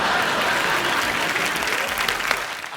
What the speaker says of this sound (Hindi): बड़ी बड़ी तालियां